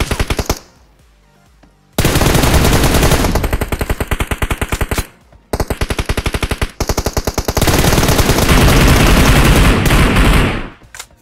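Loud, rapid automatic gunfire in the battle royale video game PUBG, sustained bursts of close shots broken by brief pauses, with no talking.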